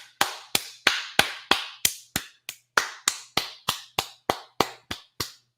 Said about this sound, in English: Let's clap for ourselves.